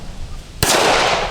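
A single sharp gunshot from a Remington R1 1911 .45 pistol fired at a target outdoors, a loud close crack after a quiet stretch, followed by a sustained noisy tail.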